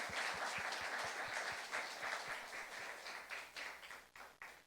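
Congregation clapping at a Saturday youth church service, a steady patter of many hands that thins out toward the end with a few last separate claps, no talking over it.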